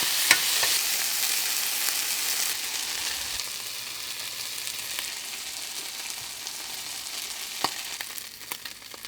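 Suckling piglet liver frying with onions in a pan gives a steady, close sizzling hiss with a few sharper pops and no voices.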